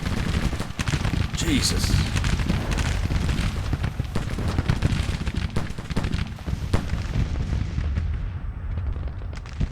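Cannon and rifle fire in a Civil War video game battle: a dense, loud, continuous crackle of musketry with heavy booms mixed in, while someone speaks briefly over it.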